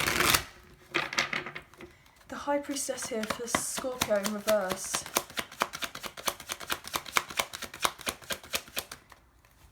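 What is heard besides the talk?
shuffling tarot cards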